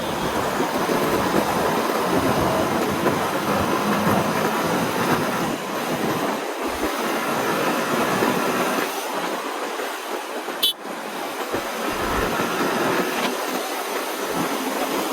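Motorcycle ride along 300 Feet road in Purbachal: a steady, loud roar of engine and rushing wind runs throughout, with a brief sharp click near the end.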